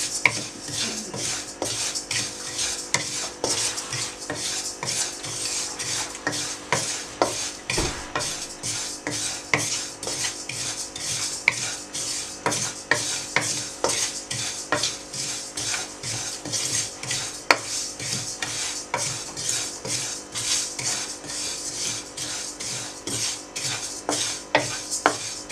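A spoon is stirred without pause through a pan of dry-roasting ingredients on medium flame, giving a dense, rapid rhythm of metallic scrapes and taps that carries on close and loud.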